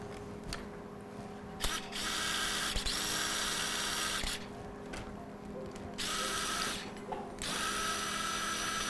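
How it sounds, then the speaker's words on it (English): A surgical power drill bores a second hole in the tibia during a knee procedure, whirring in several steady runs of a few seconds each, separated by short pauses and faint clicks. "Now we'll drill our second hole"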